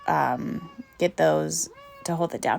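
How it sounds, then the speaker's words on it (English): A house cat meows several times in close succession, loud and near, with drawn-out, wavering cries over someone speaking. "My cat is meowing."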